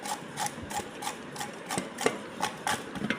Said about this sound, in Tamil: முதல்ல அந்த கேரட்டை நல்லா துருவிக்கலாம்.